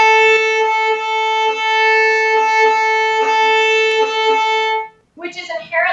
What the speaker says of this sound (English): So if a student executed that rhythm with even bow distribution, it would sound like this.